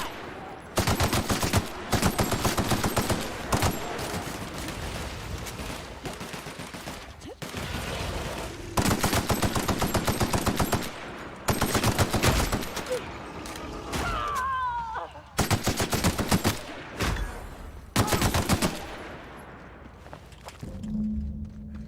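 Enemy gunfire in the video game The Outer Worlds comes in repeated loud bursts of rapid automatic shots separated by short pauses, with voices heard between the volleys.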